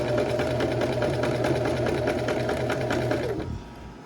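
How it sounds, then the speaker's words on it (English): Domestic sewing machine stitching a dress seam on the right side of the fabric, a steady close whirring motor with rapid needle ticking that runs for over three seconds and then stops. "So I'm taking a gamble here, sewing it on the right side instead of on the wrong side."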